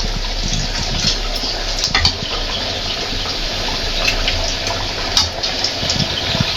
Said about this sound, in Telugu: ఇలా చేసుకుని మరుగుతున్న ఆయిల్లో వేసుకోవాలి